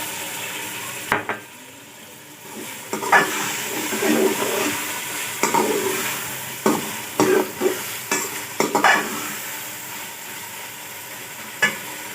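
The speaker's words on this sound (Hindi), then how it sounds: "इसको मिक्स कर देते हैं। थोड़ा सा पानी डाल देते हैं ताकि ये नीचे से खराब ना हो।" Chicken yakhni pulao is stirred in a pot: intermittent scraping and sizzling strokes, close and fairly loud, separated by short pauses.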